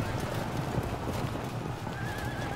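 Light javelin cavalry horses charge in Field of Glory II, a busy blend of hoofbeats and whinnies under faint game ambience.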